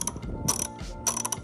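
A Tekton ratchet clicking in short bursts, a few quick metallic pawl rattles separated by brief pauses, close and fairly quiet.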